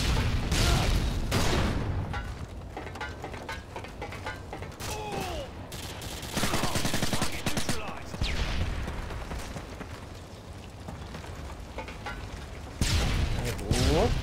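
Gunfire from the video game Modern Warfare 2, with bursts of shots and booms scattered across the clip beneath continuous dense game noise.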